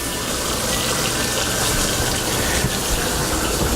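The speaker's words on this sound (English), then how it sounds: "And we immerse them in cold water." Cold tap water runs steadily into a kitchen sink over steamed beets, a continuous close splashing rush that holds an even level throughout, with no voices.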